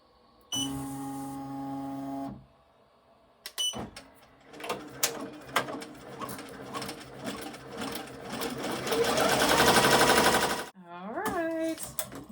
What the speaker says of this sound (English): let all the stitching finish